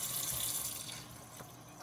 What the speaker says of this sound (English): I'm gonna cut on my cold water